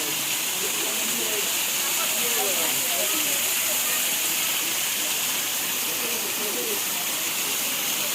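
A natural waterfall pouring loudly and steadily, a dense continuous roar of falling water with no breaks, close and filling the whole scene.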